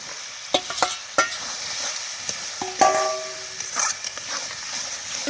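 Potatoes are stirred into sizzling masala, a spoon scraping and knocking the pan in sharp strokes over the steady fry, with a brief distant bark.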